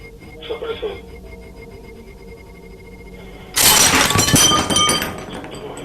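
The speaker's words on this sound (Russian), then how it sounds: "Почему ты разбил стакан?" A drinking glass shatters suddenly during a paranormal investigation, giving a loud, close crash with scattering tinkling fragments that fades over about two seconds; brief voices come first in an otherwise quiet room.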